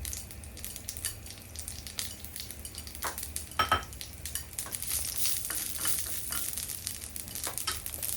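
Mustard seeds and dried red chillies frying in hot oil for a green papaya thoran, a steady close sizzle broken by sharp crackles and pops, plus occasional clinks of a utensil against the pan.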